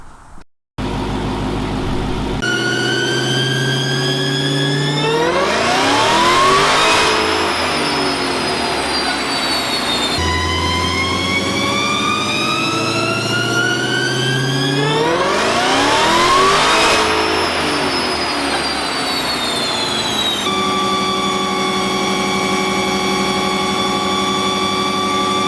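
A Dodge Hellcat supercharged V8 firing up for the first time in a shop, then running and revving in two long rising-and-falling sweeps with a whining supercharger tone, loud and close, settling back to a steady idle.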